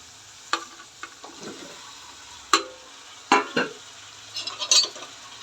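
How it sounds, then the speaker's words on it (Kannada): Egg curry ingredients frying in a pan, a soft sizzle broken by several sharp spatula scrapes and taps against the pan, close and irregular, no talking. "ಫ್ರೈ ಆಗ್ತಾಯಿದೆ"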